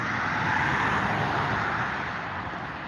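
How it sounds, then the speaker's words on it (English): A car speeds past on a road, a broad whooshing roar that builds and then slowly fades, heard alone at moderate distance. "That car is hauling ass."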